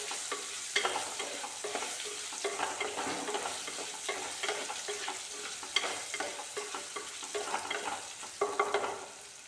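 Chopped raw mango being stirred into spices in a hot pan, with steady soft sizzling and repeated scraping, clattering stirs throughout, fairly close, no talk.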